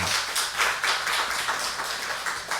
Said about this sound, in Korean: 한번 박수로 환영해 주시면 좋겠습니다